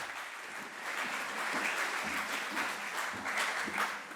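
Conference audience applauding at a university anniversary event in a large hall, a steady wash of many hands clapping, moderately distant and sustained throughout.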